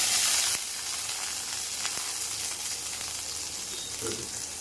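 Chopped onion dropped into hot oil seasoned with bay leaf and whole spices, a loud burst of sizzling at first that settles into a steady, quieter frying hiss with faint stirring.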